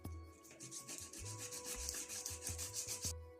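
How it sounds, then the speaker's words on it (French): Small dried craft pieces for a Father's Day name holder being sanded, a soft rhythmic scratching rub repeating about a dozen times in steady strokes, close and quiet with no talk. "maintenant, on passe au ponçage"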